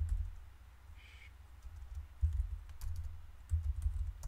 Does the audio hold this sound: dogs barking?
no